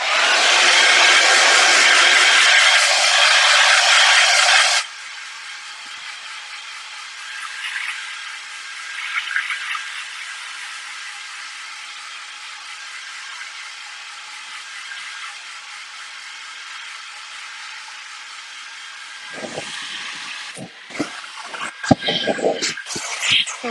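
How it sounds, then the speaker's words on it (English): A hair dryer blows loudly for about five seconds, then a quieter steady hum continues, with some handling noise and clatter near the end. "we're going to dry it with a hair dryer once again"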